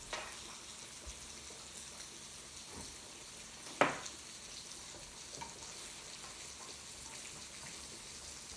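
Bourbon pecan salmon frying in a pan, a soft, steady sizzle and crackle throughout, broken by a few sharp pops and one louder spatter.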